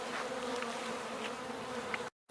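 Honey bees from a single backyard hive buzz steadily and close, a dense continuous drone lasting about two seconds before cutting out abruptly.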